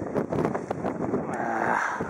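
Strong wind gusting across the rocky mountain summit of Kamagatake, a steady, loud roar buffeting the microphone with no break.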